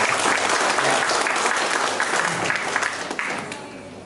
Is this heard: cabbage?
no